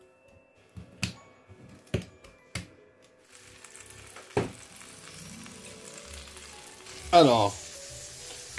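Fish fries gently in a pan over low heat, a faint, steady sizzle broken by a few sharp clicks and taps of utensils, with a brief spoken word near the start.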